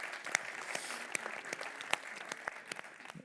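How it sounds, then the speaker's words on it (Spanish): A conference audience claps in a quiet room, a soft, scattered patter of hands with a few sharper individual claps standing out over about three seconds. "Un aplauso."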